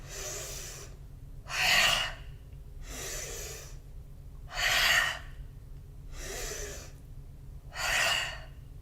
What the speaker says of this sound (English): Fire breath. Inhale up. Exhale,